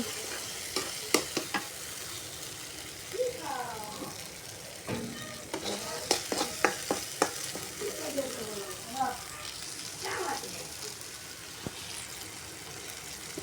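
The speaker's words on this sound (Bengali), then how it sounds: "এই তো দেখেন সরষে ইলিশ রান্না করার জন্য আমি সরষে বাটাগুলো ভালোভাবে ভেজে নিচ্ছি।" Ground mustard paste frying in a pan for shorshe ilish, a hilsa fish curry, with a continuous sizzle, repeated spatula clacks and scrapes, and a faint voice murmuring in the background.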